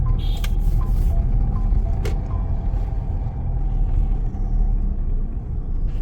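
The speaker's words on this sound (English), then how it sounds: "Let me quickly park the car" A Mahindra XUV 700 idles and creeps along as it is parked, giving a steady low engine rumble throughout with a few faint clicks and knocks above it, close and fairly loud, with no talk.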